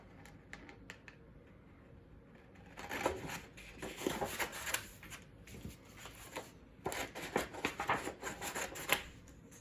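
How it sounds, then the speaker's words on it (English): Paper letters being cut out with scissors for a December Daily craft project, heard as a run of quiet, close crisp snips and paper rustles, growing denser and louder in the second half, with no talking. "The next piece that we need are to cut out these letters."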